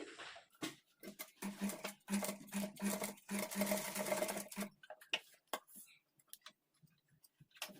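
A sewing machine stitching piping onto cloth runs in a fast, rhythmic mechanical whir for about four seconds, then stops, leaving scattered clicks and handling taps, close and quiet.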